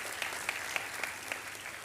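Church congregation applause during a sermon, a short stretch of steady clapping with a few sharper individual claps standing out, at moderate distance and without speech.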